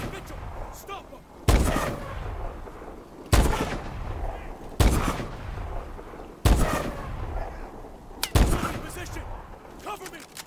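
Heavy gunfire in the Call of Duty: Advanced Warfare campaign, five loud booming shots spaced a couple of seconds apart over a continuous din of battle and shouted voices.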